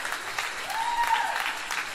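A church congregation applauds, a steady dense wash of clapping that fills the whole moment at moderate loudness with no talk over it.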